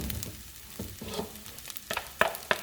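Beef fried rice sizzles and fries steadily in a pan, with a few sharper clinks and scrapes toward the end as it is stirred, moderately quiet and close, with no talking.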